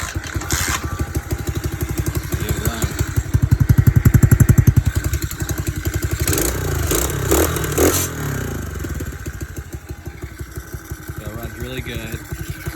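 A Tao Tao Chinese pit bike runs after an engine swap with a new coil and spark plug, its small single-cylinder engine idling and revving in a steady close putter, with brief throttle blips midway.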